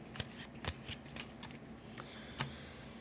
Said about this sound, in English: And then we're shuffling this into the deck.